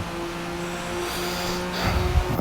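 Porsche 911 S six-cylinder race car accelerating down a straight at Road America, a steady engine drone with a steady tone that swells louder and rougher toward the end.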